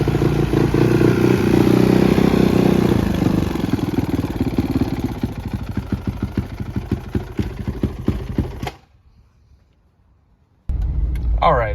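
A 2008 Honda CRF450X dirt bike, an old race bike unstarted for seven years, runs with a loud close engine clatter. It fades somewhat, then cuts out abruptly into near silence before another loud burst of noise returns.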